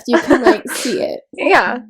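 A single sharp sneeze bursts out between casual talk among friends chatting about Formula 1, with speech before and after it.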